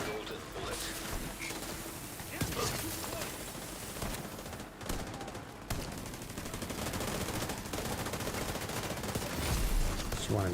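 Sustained automatic gunfire in The Division 2 video game, dense rapid bursts with sharp cracks over a continuous roar, with a voice talking underneath.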